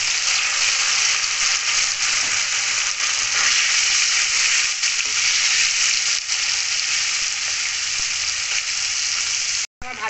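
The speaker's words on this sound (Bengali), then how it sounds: "তাই পনিরটাও ভেজে নিচ্ছি" Paneer fries in hot oil with a loud, continuous crackling sizzle that holds steady throughout, close up and with no talking.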